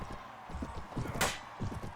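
Horse galloping in the Mount & Blade mod Prophesy of Pendor, quick repeated hoofbeats thudding in a fast rhythm, with a sharp swishing impact midway through.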